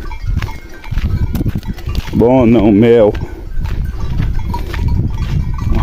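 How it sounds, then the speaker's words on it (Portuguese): Goats bleat in scrubland as the herd is driven downhill, one clear wavering bleat standing out amid rustling movement while people talk nearby. "Vamos descendo as cabras, viu?"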